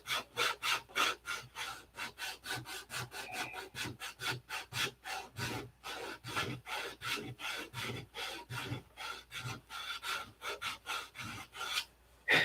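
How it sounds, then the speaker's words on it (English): Wooden model parts are hand sanded with quick, rhythmic back-and-forth strokes, a dense close rasping that repeats steadily for several seconds with no talking. "we can detail sand all the rounds"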